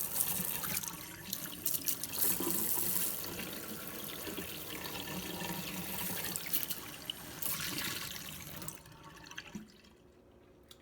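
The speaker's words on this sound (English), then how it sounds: "we're just going to turn the water on" Water rushing steadily from a newly installed Pfister Shelton kitchen faucet into a sink, close and continuous, then dropping away near the end.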